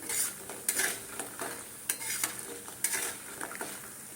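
Lentil dumplings (bori) frying in mustard oil: a faint sizzle under intermittent spatula scrapes and light metallic taps, quiet and close, no voices.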